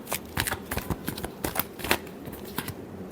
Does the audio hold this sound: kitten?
no